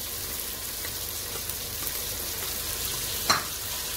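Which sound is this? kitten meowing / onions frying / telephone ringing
onions frying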